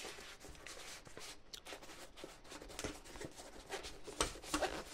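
A small survival kit pouch is unpacked close by, with soft rustling, rubbing and scratchy handling of fabric and packed items, irregular and quiet, building to a few sharper crinkles near the end.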